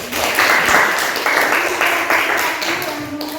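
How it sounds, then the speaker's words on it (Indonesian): Classroom applause for a student group: a crowd of students clapping together steadily for a few seconds, fairly loud and close, with some talk mixed in. "berikan aplaus untuk kelompok"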